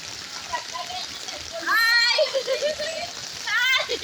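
Children swim in floodwater on a Mandaluyong street, making bursts of splashing while their high excited voices shout and squeal close by.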